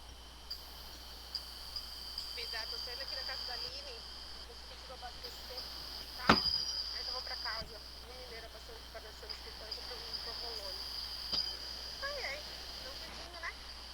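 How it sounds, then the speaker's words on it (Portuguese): A cricket chirps in a steady high trill in the background, faint and continuous, while a person talks quietly nearby. "Já tô com a trilha sonora do Grilo cantando aqui"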